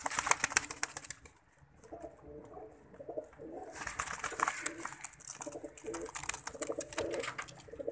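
Red-eyed breeding pigeons in a loft coo and rustle, with bursts of wing flapping nearby; soft, irregular calls repeat throughout with no talking.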